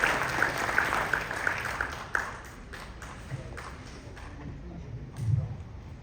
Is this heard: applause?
yes